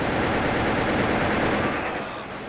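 Sustained, dense gunfire in the online shooter Wolfteam: a loud, continuous burst of rapid shots with no gaps, tapering slightly toward the end.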